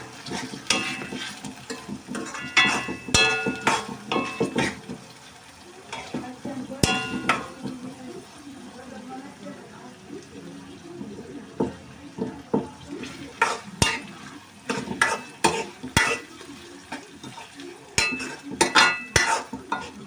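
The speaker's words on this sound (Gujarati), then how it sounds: "હવે ટમાટર નાખીને આપણે એને સડવા દઈશું ઘડીક" Onions and tomatoes fry in a pan for chicken bhuna masala, with a soft sizzle under repeated scraping and sharp metallic clinks of a spoon against the pan, irregular and close.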